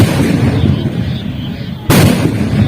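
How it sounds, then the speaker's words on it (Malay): A traditional village cannon (meriam) fires at night during a festive village cannon play: a steady low rumble, then one sudden loud, close boom that cuts through and leaves heavy reverberating roar afterward. "Kita boleh tengok api daripada muncul-muncul meriam yang ada dekat depan saya"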